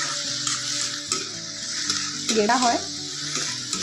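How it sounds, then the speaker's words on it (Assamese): Masala ingredients for butter paneer masala fry in a pan with a steady, moderate sizzle and occasional stirring scrapes, as a voice speaks briefly over it. "এইখিনি এনেদৰে অলপ সময় ভাজি থাকিম"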